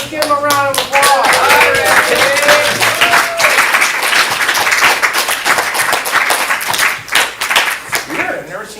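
Loud, close applause from a comedy improv theater audience, rapid and dense, with excited voices and shouts rising through it.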